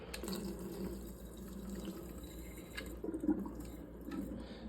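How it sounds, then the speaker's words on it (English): Water splashes and trickles steadily for a few seconds as it is poured out of a bubbler, close by and fairly quiet, with no voices. "I'm gonna dump off a little water."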